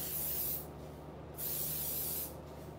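Hair spray hisses from a can in two steady bursts aimed at the hairline of a lace front wig, close and fairly quiet with a short pause between them.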